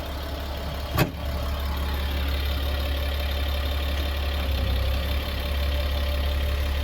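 Diesel school bus engine running as the bus pulls forward, a steady deep low rumble close by after a single sharp knock early on, with no talking.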